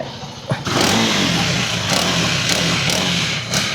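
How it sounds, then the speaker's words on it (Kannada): A motorcycle engine with a head noise fault runs close by with a steady rumble, a sharp start near the beginning, and a few brief ticking knocks over the idle. "ಇಂಜಿನ್ ಹೆಡ್ ನಾಯ್ಸ್ ಅಂತ ಚೆಕ್ ಮಾಡ್ತೀನಿ"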